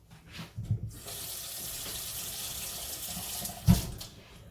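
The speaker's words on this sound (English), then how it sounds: "And I'm gonna put in some water as well." Water gushes steadily from a tap for a few seconds, with a couple of soft clunks at the start and near the end.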